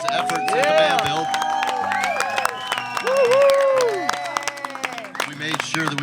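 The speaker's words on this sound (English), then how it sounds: "Let's give a big round of applause for Jeremy and all his efforts in the van build." A small group claps and cheers for a friend on the last day of a camper van build, clapping mixed with whoops and overlapping excited voices and laughter.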